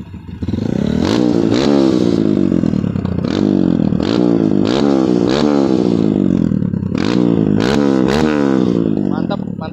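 A bored-up Kawasaki KLX 150 trail motorcycle engine revs hard and repeatedly, loud and close, each throttle blip climbing and falling with rough mechanical clatter, and brief voices cut in between revs.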